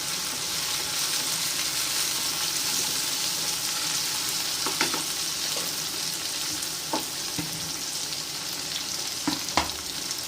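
Drumsticks sautéing in a pan for a Tamil koottu, a continuous close sizzle broken by occasional scraping stirs and clinks, with no voices.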